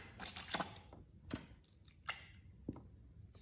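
Water drips off a wet pulp painting through egg crating in a few separate soft, squishy drops and splats, close and fairly quiet against a low background hum.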